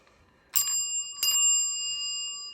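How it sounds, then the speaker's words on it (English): Two bright dings of a Dover elevator arrival bell about a second apart, each ringing on with a clear sustained tone that slowly fades. "here's the Dover bell."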